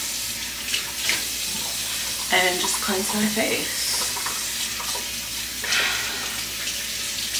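Very hot water runs steadily from a bathroom tap into a sink for face washing, a close, continuous hiss with splashing as someone speaks briefly over it.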